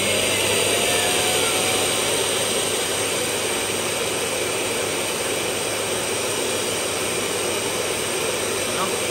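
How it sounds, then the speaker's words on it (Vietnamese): A Roborock S7 MaxV Ultra robot vacuum's auto-empty dock evacuating the dustbin with very loud suction, a steady jet-like roar that holds unbroken throughout. "Nó tạo ra một cái tiếng ồn theo mình là rất là lớn, nghe như động cơ của máy bay phản lực"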